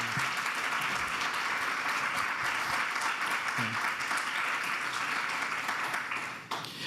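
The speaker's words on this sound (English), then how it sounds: "Can we have one more round of applause for Dr." Sustained audience applause fills a lecture hall for a lecturer, steady dense clapping throughout before tapering off near the end, with no talk over it.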